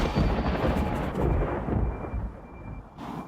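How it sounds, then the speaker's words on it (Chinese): Deep, rolling thunder rumbles loud and close for about three seconds, broad low-frequency roar slowly fading toward the end, with no talk over it. "打雷了耶！"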